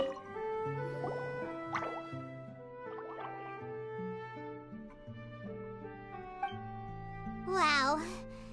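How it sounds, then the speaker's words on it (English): Plinking water-droplet sounds in Genshin Impact over soft melodic game music, ending in a brighter, bubbling drip near the close. "it sounds like a water droplet is on the second floor"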